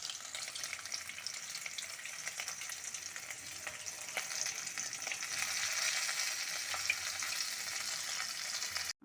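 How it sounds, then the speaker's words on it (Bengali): Bhetki fish pieces frying in oil in a pan for a Bengali haldi bhetki dish give a steady, fairly soft hissing sizzle that grows slightly louder midway, with no talking. "মোটামুটিভাবে ভেজে নেব মাছটাকে।"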